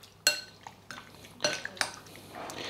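Chicken hearts being mixed with salt in a bowl for a marinade, a few sharp clinks of a utensil against the dish with soft wet stirring between them, quiet and close with no talking.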